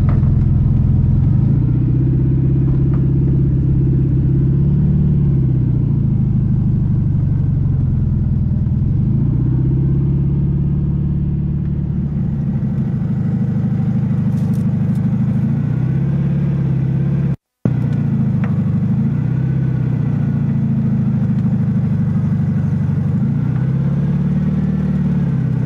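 A long-abandoned Volkswagen Super Beetle drives with a steady, loud engine drone that rises and falls through repeated revs and gear shifts, with a brief cutout partway through.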